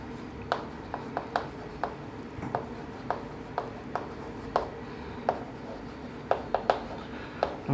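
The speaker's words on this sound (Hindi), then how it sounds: "लिखते हैं इसको" Chalk or marker tapping and scratching on a board during a class 11 physics lecture on units and measurement, a steady series of sharp, close taps in an irregular rhythm with no talk over it.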